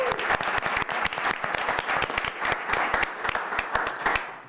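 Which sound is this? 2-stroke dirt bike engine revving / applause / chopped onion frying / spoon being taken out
applause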